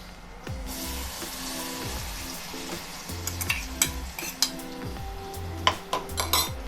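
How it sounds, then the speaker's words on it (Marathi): A ground paste hits hot ghee with crackling cumin seeds for a Marathi peanut amti and sizzles steadily. Repeated spoon clinks and scrapes against the pan grow busier toward the end. "जिरं छान तडतडलं की हे मिश्रण आपण त्यावर टाकून घेऊया"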